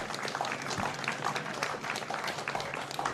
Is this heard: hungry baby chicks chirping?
no